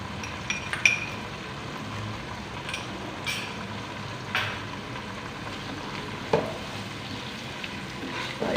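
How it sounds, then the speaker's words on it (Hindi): Ginger-garlic paste, two tablespoons, sizzles steadily in oil with browned onions for a chicken and pea curry, a continuous soft frying hiss broken by occasional clinks of a stirring spoon against the pot. "अब लहसुन अदरक का पेस्ट डालेंगे 2 टेबलस्पून"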